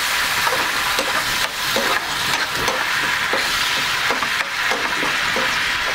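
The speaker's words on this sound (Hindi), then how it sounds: "इसे अब अच्छे से मिक्स कर लीजिए।" A yogurt marinade with soy sauce for Hyderabadi Apollo fish fry is stirred in a bowl, a close, continuous wet squelching and scraping with a steady rhythm and no pauses. No voices.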